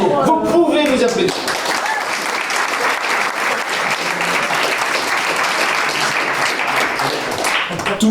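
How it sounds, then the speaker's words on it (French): Audience at an improv comedy show bursts into loud, sustained applause, dense clapping filling the room after a brief voice at the start. "Bravo, vous pouvez vous applaudir."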